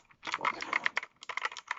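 Quick clacking keystrokes on a new backlit computer keyboard, a close burst of rapid taps with a short pause before another run, crisp and typewriter-like with no talking.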